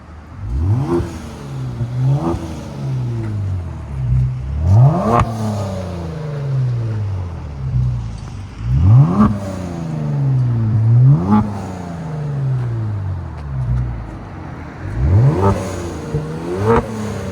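A 2020 Kia Stinger GT with a 480 hp 3.3L twin-turbo V6 and a muffler-delete exhaust revs hard and close by, roughly five sharp blips that climb and then fall away, with a rumbling idle in between and no talking.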